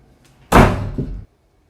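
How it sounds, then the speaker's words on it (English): A door blown shut by wind on a cold snowy day lands with one loud, close wooden slam and a short rattling thud after it, then quiet. "I step inside and the wind shuts the door with"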